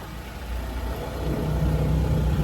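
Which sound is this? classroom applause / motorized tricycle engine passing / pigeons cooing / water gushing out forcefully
motorized tricycle engine passing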